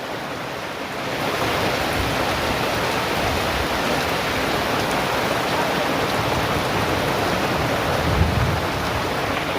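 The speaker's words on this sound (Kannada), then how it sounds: "ಫುಲ್ ಮಳೆ ಬರ್ತಾ ಇದೆ" Heavy rain pours down in a dense, steady hiss that swells after the first second and continues unbroken, loud and close.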